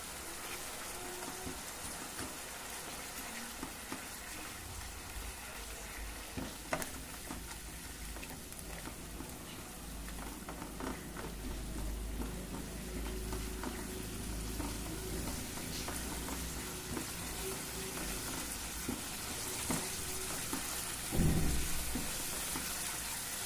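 Ginger garlic paste fries in a pan for palak paneer curry, giving a soft, steady sizzle with faint crackles and occasional stirring, fairly quiet and without speech.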